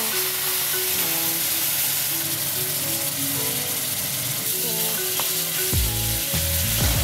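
Apple cider vinegar hits hot BBQ sauce spices in a pan with a loud, continuous sizzle, stirred throughout, with a few sharper bursts and scrapes toward the end; no voices.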